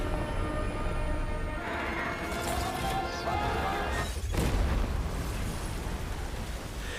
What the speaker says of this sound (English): crashing into a helicopter that explodes.